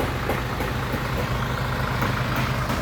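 A 2017 Isuzu Elf six-wheeler truck with a 4HF1 diesel engine runs steadily nearby, a loud, continuous low rumble with a faint regular ticking pulse and no speech.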